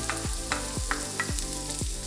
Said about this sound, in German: Wo das Öl erhitzt ist, gebe ich die Zwiebel rein, die Knoblauchzehe